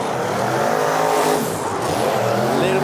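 A drift car at a drift competition roars at full throttle while its tires squeal continuously in a loud, sustained mix of engine and rubber noise across the whole stretch.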